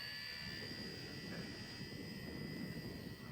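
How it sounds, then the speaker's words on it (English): Engines on an RC helicopter spool up on a windy day, a steady high turbine whine layered over a dense rumble of wind buffeting, constant and fairly loud throughout with no talking. "I'll get these engines to fire up."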